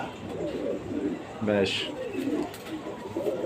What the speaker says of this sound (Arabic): الفرد ده ماشي فرد حمام كويس